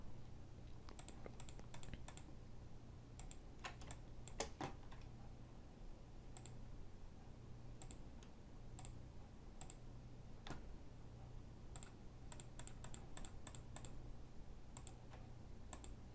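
Computer keyboard keys clack in scattered bursts and single taps over a low steady hum, close and fairly faint, with no talking.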